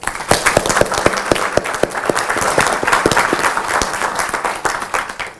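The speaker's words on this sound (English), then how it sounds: "So give a round of applause for everyone, please." An audience at a London accessibility meetup claps for the event volunteers, a short burst of steady, fairly close applause with distinct individual claps.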